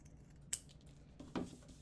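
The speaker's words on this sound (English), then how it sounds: "I'm just going to trim it up a little bit." Scissors trimming the fabric of a handmade bat-wing bed, two quiet close snips about a second apart against a hushed room.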